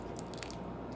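Hard Japanese cherry candy being chewed close to the mouth, with steady moist crunching and squishing bites over a low background rumble, no talking.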